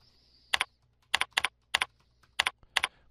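Typing on a computer keyboard in bursts of quick key clicks, six short clusters spread over a few seconds, close and crisp with quiet pauses between and a faint steady hum underneath.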